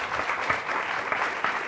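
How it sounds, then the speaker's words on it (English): Audience applause at an event, dense continuous clapping at a steady level with no pauses. "Can we have some applause for them?"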